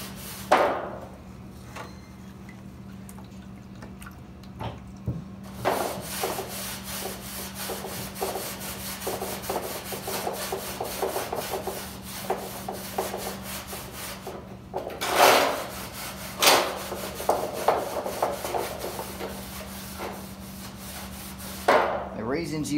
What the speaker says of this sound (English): you scrub it with the steel wool, and it eats the galvanizing off